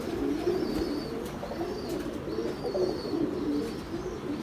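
Racing pigeons coo steadily and moderately close, with repeated soft throaty calls layered over a busy outdoor background and no talking.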